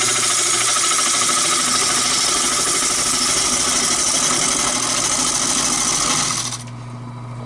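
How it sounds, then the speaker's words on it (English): A lathe runs at its lowest speed of 700 RPM while a tool cuts under heavy pressure, giving a loud, steady whirring hum with a broad hiss. The hiss drops away abruptly near the end, leaving a quieter hum. "I can still put a lot of cutting pressure on it without it stopping. And this is on the lowest speed, which is 700 RPMs"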